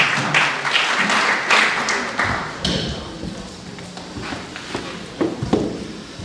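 Audience claps at a mushaira and book inauguration gathering, welcoming a poet from Manchester to the stage. Scattered, fairly close claps thin out and fade as a voice begins talking over them.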